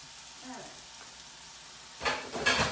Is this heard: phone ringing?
no